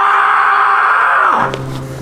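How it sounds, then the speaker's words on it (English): Strained, drawn-out yell from a top climber pushing through an extremely hard boulder problem, loud and close, a single sustained cry that drops off into breathy effort near the end. "That is the sound of one of the best climbers in the world doing one of the hardest boulders in the world."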